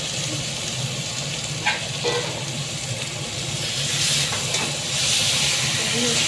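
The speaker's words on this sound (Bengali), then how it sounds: "মা এদিকে মাটনের জন্য মশলাটা তো কষাচ্ছে" Spices for mutton being sautéed in a pan give a continuous sizzle and hiss, with occasional scraping stir sounds and a low hum underneath.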